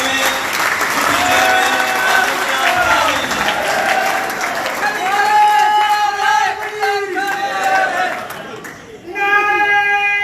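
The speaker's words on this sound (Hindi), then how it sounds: "आपकी भरपूर तालियों में" An audience at a workers' meeting in Chanesar Goth breaks into loud, sustained applause and cheering, a dense crowd roar with voices mixed in that eases briefly near the end before swelling again.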